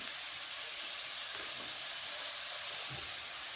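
Curry leaves sizzling as they sauté in hot oil for a prawn masala, a steady, even hiss of frying with no voices.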